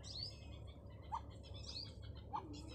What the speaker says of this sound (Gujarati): પંખી બોલતા હોય સવારના પોરમાં.